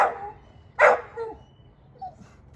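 A dog barks on a speak command during training, two or three sharp single barks spaced apart, close and fairly loud, with a softer yip near the end.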